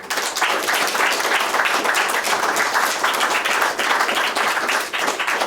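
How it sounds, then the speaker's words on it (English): Audience applause at a school class visit by Vietnam veterans, a dense, steady wash of many hands clapping close and loud for the full stretch, with no talk over it. "Round of applause."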